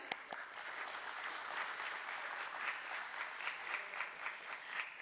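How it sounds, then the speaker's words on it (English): Sustained audience applause at a stock exchange listing ceremony for a funicular ropeways company, many hands clapping evenly for several seconds, moderately distant and steady without speech. "Let's hear a big round of applause,"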